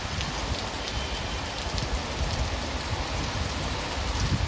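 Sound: rain

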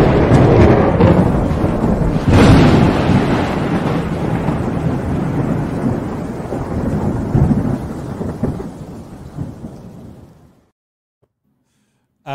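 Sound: thunder sound effect for a lightning round segment

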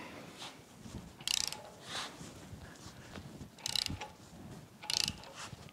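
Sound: puller removing a Yamaha F225 outboard prop shaft seal

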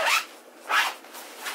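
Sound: zipper closing on a small suitcase packing organizer

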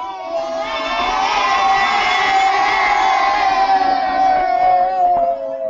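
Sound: children cheering in classrooms

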